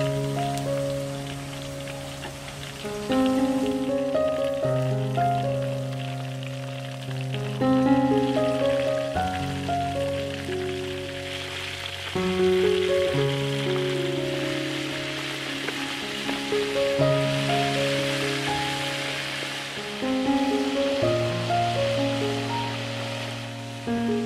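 Wontons deep-fry in hot oil at home, a dense crackling sizzle running continuously beneath louder background music with steady tones.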